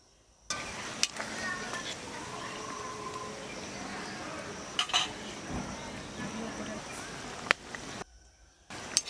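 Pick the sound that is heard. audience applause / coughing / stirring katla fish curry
stirring katla fish curry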